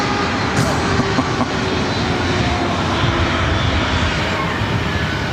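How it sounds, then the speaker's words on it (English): A Delta Airbus A321neo roars at close range at LAX, its jet engines a loud, continuous broadband rumble that holds steady throughout with no talk. "It's flight heading to Seattle on this Delta A321 Neo."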